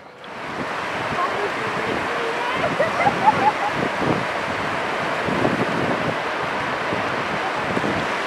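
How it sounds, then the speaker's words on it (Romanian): Sea surf rolls onto Las Arenas beach in Valencia, a steady broad wash of waves mixed with wind buffeting the microphone, with faint voices briefly audible in the middle. "Și acolo este marea."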